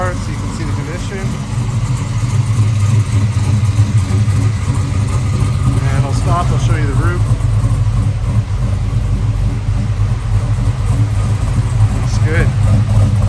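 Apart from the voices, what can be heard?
1970 Chevelle LS3 427 stroker engine idling with lumpy cam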